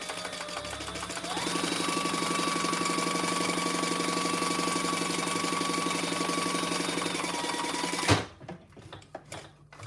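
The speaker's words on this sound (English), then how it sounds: "I'm going to do 2 rows of top stitching." A sewing machine runs top stitching on a travel case, a steady close hum with a whining tone that holds for about eight seconds before cutting off into quieter handling noises.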